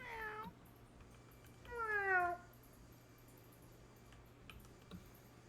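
A fire kitty creature in a fantasy video game gives a short meow, then a longer drawn-out wavering meow, both faint and clear over a quiet background.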